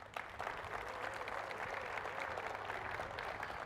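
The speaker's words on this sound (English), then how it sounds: "I love when you guys clap." Steady applause from an audience at a county government address, a dense even wash of clapping lasting the whole stretch, moderately distant and soft.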